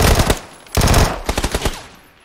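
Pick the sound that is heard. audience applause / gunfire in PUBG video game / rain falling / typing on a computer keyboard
gunfire in PUBG video game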